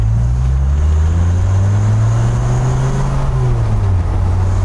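A 1994 Dodge Viper drives on a test road, its engine a loud, close, steady drone that rises and falls slightly with the throttle, with road and wind noise underneath.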